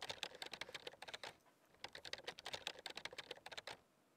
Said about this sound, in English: Typing on it like he's never typed on a computer before.